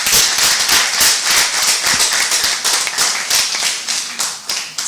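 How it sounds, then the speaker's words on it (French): Enthusiastic applause at a formal address, loud and close, with sharp individual hand claps standing out in an irregular rapid rhythm over a fuller background of clapping, and no voices. "Je vous demanderai de l'applaudir encore une fois."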